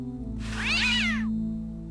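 A cat in the remastered video game Day of the Tentacle lets out one clear, wavering meow over a low steady game hum, with no talking.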